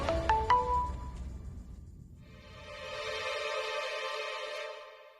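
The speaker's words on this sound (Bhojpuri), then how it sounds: "हम प्रज्ञा के फोन लगावता नहीं।" A phone ringback tone sounds during an outgoing call, a steady electronic ring that starts after a few seconds of quiet and holds at moderate volume, with no voices.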